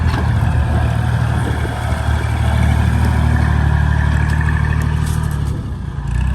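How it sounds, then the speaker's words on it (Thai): A tractor ploughing a field, its plough pulling unevenly to one side, gives a loud, close, steady engine drone with rough low rumble and faint clatter throughout, no voices. "ตรงนี้ งานเยอะแล้วรถไถ"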